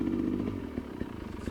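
Sherco SE 300 Factory trials motorcycle engine ticking over at low speed on a slow climb, a faint, uneven low putter with light clatter, brief and close.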